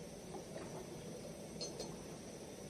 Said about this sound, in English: Now for the lid to go back on, because I got to let this simmer